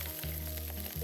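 Onions with carrots frying in oil for restaurant-style fried rice, a brief, dense, steady sizzle close to the pan with a low hum beneath and no talk.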